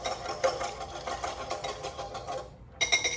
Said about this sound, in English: It's gonna give this a good whisk so everything gets combined.